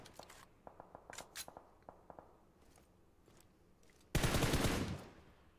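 Sparse sharp gunshot cracks in a video game scattered over a few seconds, then a loud sustained burst of rapid fire near the end, fading out.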